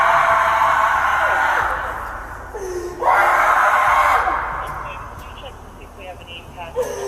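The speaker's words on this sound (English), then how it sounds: "Screaming isn't gonna help you right now." A drunk, handcuffed woman screams inside a police car, loud drawn-out wails that rise, break off and surge again, close and mixed with voices.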